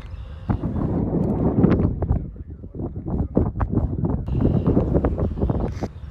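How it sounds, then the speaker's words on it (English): Strong wind buffets the microphone outdoors on a valley prairie dog hunt with air rifles, a continuous loud gusting rumble with irregular flutters and no talking. "No snow to deal with, but oh my gosh, the wind."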